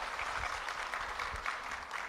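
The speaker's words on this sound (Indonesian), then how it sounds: "Tepuk tangan untuk Bante Dirapunyo Tera." Audience applause for a speaker at a talk show on happiness in old age, a steady wash of clapping hands filling the whole stretch at moderate level, no voices over it.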